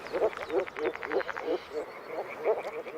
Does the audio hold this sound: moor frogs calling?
yes